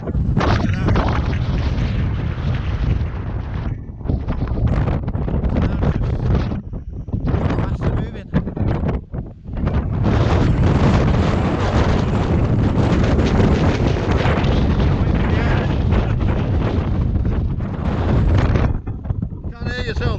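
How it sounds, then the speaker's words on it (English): Strong wind gusts roar almost without pause across the exposed Y Gribin ridge in Snowdonia, buffeting the microphone loudly and close, with only a few brief lulls. "We hit the wind again in most places."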